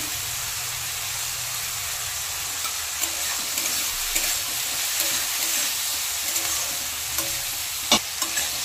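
Greens and potato fry in a pan with salt and turmeric, a loud steady sizzle broken by repeated scraping stirs and occasional clacks of the spatula.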